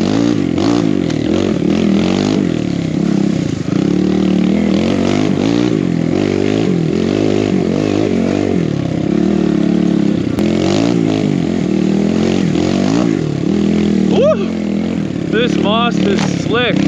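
A big bore Kawasaki KLX140RF dirt bike rides on trails, its engine revving up and down unevenly over close, loud mechanical clatter. A voice is heard partway through.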